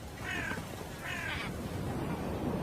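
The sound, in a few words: crows cawing around a hunting eagle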